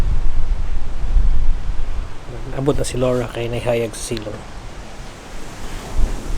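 Strong wind roars and buffets the microphone throughout, with someone speaking briefly over the gusty noise midway.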